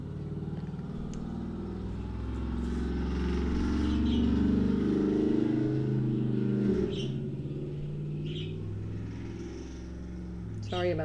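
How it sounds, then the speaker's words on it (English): A loud car passes outside, its engine rumble swelling and fading beneath a person talking indoors. "Sorry about the loud car."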